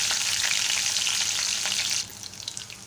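Green chilies hit hot oil in a pan and crackle with a loud, dense sizzle for about two seconds before the sound drops to a quieter, sparser spitting.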